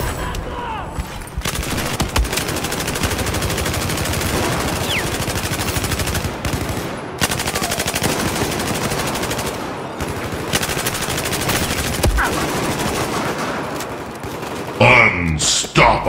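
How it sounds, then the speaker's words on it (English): Light machine guns fire in sustained automatic bursts in Battlefield 4, dense rattling gunfire with short breaks and game voices mixed in. "The first battle is light machine guns."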